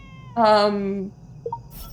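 A single drawn-out cat meow from a dress-up phone game, clear and close, followed by brief small chimes and a soft interface sound.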